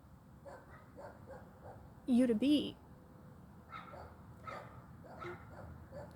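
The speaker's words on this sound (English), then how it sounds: "See, and the other dog got joined in." Two dogs bark, with one short, loud burst of barking and yips in the middle and fainter barks around it, under a person's quiet talking.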